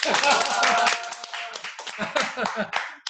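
Audience applause at an alumni mentoring session of a Korean university's social welfare counseling department, a dense burst of clapping that thins and flutters over about three seconds, mixed with voices and laughter.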